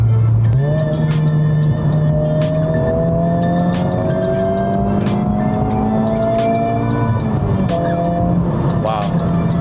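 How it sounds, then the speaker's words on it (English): A loud Honda Civic FL5 Type R engine drones and rises through the gears from inside the cabin, its throaty exhaust note steady and close with valves open, with faint ticking throughout. "Moving on to the second thing is the sound of the Type R. Right now, our valves are open on the car."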